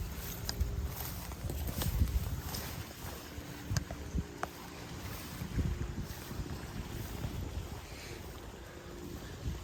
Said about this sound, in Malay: Terbaik kan angin malam tu.